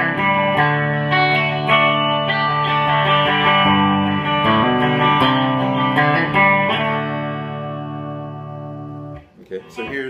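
Clean electric guitar chords and single notes from a Rickenbacker 381v69 on the bridge pickup ring out steadily, bright and close, fading out near the end with a few faint handling noises.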